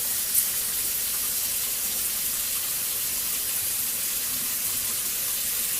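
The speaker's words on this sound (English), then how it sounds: "So just turn your tap on, let it run till it's hot." Hot water running steadily from a kitchen tap, a continuous broadband hiss and splash heard close up, with no talking.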